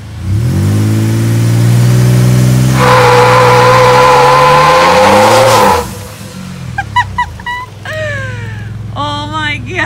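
Turbocharged Jeep Wrangler JLU Rubicon on Milestar tires accelerating hard on a highway, engine droning loudly and rising in pitch as boost builds, then the tires break loose with short squealing chirps toward the end.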